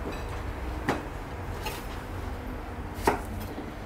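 Knife chopping the ends off an aubergine while making moussaka: two sharp, close cuts on a board about two seconds apart, over a steady low room hum.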